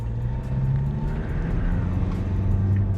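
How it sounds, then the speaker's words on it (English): A Mahindra Scorpio-N diesel SUV with 175 bhp driving past at speed, a loud, steady low engine and road roar heard close and alone. "Just look at the way this car is sprinting to glory."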